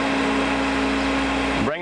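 A bench grinding wheel runs steadily at speed, ready to plunge grind a drill bit, giving a loud continuous motor hum with a strong steady tone that cuts off and winds down right at the end.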